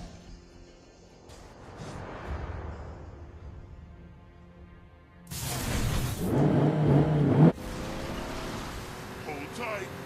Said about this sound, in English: Hold tight. I'm stepping on the gas.